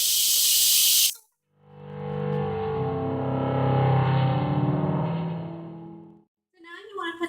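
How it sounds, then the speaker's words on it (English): Tap water pouring into a pot on a kitchen counter as it fills halfway, a steady rushing hiss lasting about five seconds, with brief noise before and after. "you're going to fill it about halfway with water"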